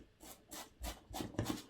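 A screw is driven by hand straight into polystyrene foam with no pre-drilling, giving a series of close, squeaky rubbing and rasping bursts, about four or five strokes in quick succession.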